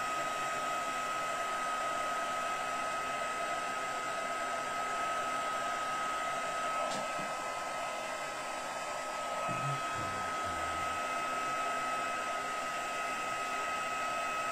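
A heat gun blows hot air steadily over a wooden tree craft piece, a constant close whooshing roar that runs unbroken throughout, with a few faint knocks and handling sounds near the end.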